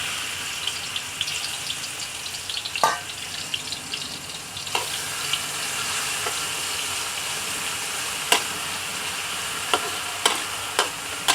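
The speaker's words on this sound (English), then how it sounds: "Oil is sizzling." Cooking oil sizzles in a pan during a stir-fry of chicken tomyam with shallot, garlic and ginger. A steady hiss runs throughout, broken by a few sharp pops and clinks, with no talking.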